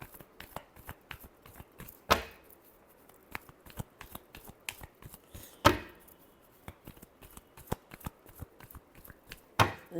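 Tarot cards are shuffled in sharp riffling bursts with softer card handling between them, close and clear, with no talking.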